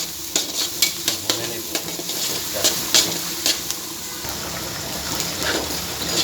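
Sliced onions and chopped garlic fry in oil in a pan with a constant, bright sizzle. Irregular clacks of a spatula stirring and scraping sound close by.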